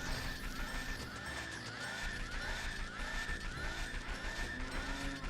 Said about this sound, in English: That's a crazy horse clomping sound effect.